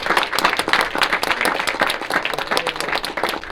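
Audience applause at a 2020 State of the City address, a dense, steady clapping from a large crowd that continues unbroken and loud throughout.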